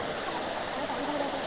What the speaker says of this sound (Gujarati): મસ્ત વચ્ચે ઝરણું આવે, પાણી બાણી પીવું હોય તો પીવાય